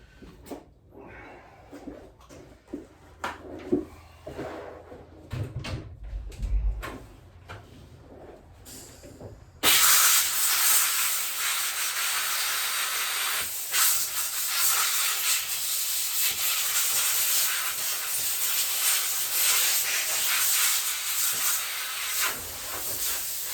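Compressed air blasts buildup off the coil and flywheel of a Husqvarna 300-series chainsaw, a loud sustained hiss starting partway through after some quiet handling clicks and rustles, then continuing steadily to the end.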